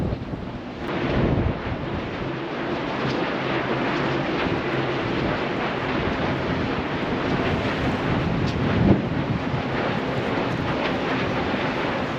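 Strong wind blowing across an open hillside with wind turbines in Portugal, a steady loud broadband roar buffeting the microphone continuously with slight gusts and no speech.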